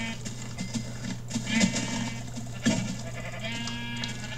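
Sheep bleat in Minecraft, two short blocky calls about a second apart over steady game background noise, with no talking.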